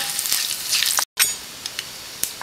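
Curry leaves fry in hot oil for tomato rasam with a busy, close crackle and hiss, broken by a brief dropout, then lighter sizzling with scattered sharp pops.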